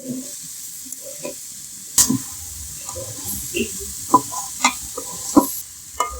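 Food stirred and fried in a village kitchen, with a steady background sizzle broken by sharp scraping clinks of a utensil against the pan at irregular intervals.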